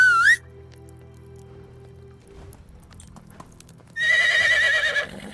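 A horse in the video game Medieval Dynasty gives a loud whinny, then after a few quiet seconds of faint hoofbeats it neighs again at length, close and prominent.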